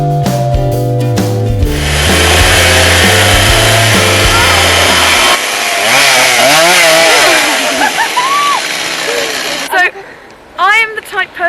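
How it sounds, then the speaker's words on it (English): A chainsaw roars loudly and steadily, its pitch rising and falling as it carves into a tree, then cuts off, followed by brief close talking. "I was just filming this guy who was carving a tree with a chainsaw"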